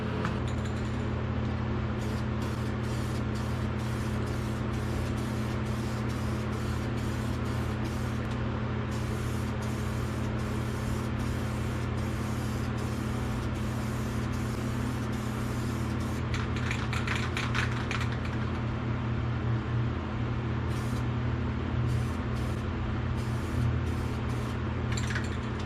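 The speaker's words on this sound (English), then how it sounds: "I'm gonna rattle can this" Short bursts of spray paint from a rattle can coating the firewall of a 1952 Chevrolet Styleline Deluxe, repeated hisses over a steady low mechanical hum, with a denser spraying stretch midway.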